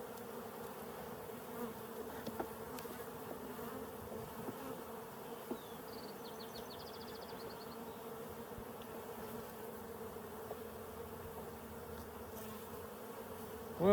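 Honey bees drone steadily inside a backyard Colorado beehive, a dense, continuous hum close by with faint insect whine above, steady throughout with no talking.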